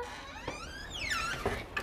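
The front door of a house in a gated residential complex creaks open, giving a drawn-out squeak that rises and falls in pitch, followed by a few soft knocks up close.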